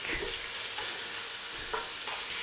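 Onions and garlic for a marinara sauce fry in a pan with a brief, steady sizzle and a soft scrape of stirring close by.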